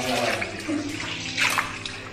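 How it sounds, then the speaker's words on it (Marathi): Water pours down from about 150 feet at a rocky waterfall spot in Sindhudurg, Konkan, a steady close splashing rush that continues without a break. "आणि वरून पाणी पडते."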